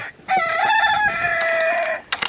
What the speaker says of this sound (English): Got a super annoying rooster.